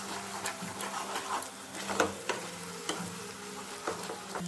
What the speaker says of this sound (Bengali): এবার সব কিছুকে আমি খুব ভালো মতন কষিয়ে নেব।